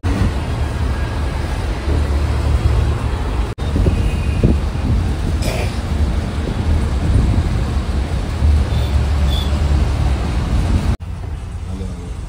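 Steady engine and road rumble from inside a moving state transport bus crossing the Vashi bridge, loud and continuous, with traffic noise in the background.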